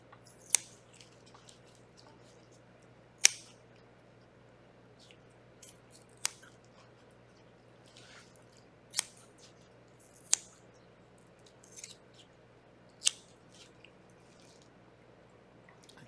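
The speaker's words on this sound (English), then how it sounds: "I'm going to just cut in a line staying about that distance" Scissors snipping through an eye during a dissection, single quiet snips spaced a couple of seconds apart over a steady low hum, with no voices.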